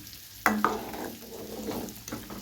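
Close stirring and scraping in a simmering pot of sardine fish curry made with little oil, with a bubbling, sizzling boil underneath and a couple of sharp utensil knocks near the start.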